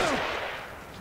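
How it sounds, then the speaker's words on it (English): A single gunshot crack from the video game The Evil Within, loud and close, its sharp burst fading quickly into a short tail. "Find cover. They're shooting."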